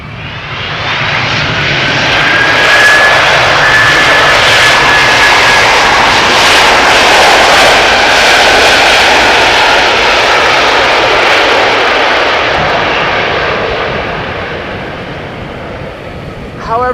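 GE90 jet engines on an airliner at Amsterdam Schiphol Airport roar loudly and steadily, swelling up over a few seconds, holding a broad rushing drone, then easing off toward the end.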